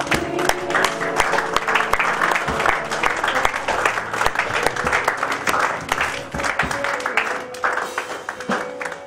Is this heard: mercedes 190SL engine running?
no